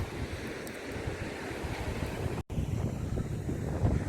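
Sea waves washing onto the beach at Sidi Abdeslam near Azla, Tetouan province, in northern Morocco, a continuous rushing surf mixed with wind noise on the microphone, fairly close and steady, with a brief dropout midway.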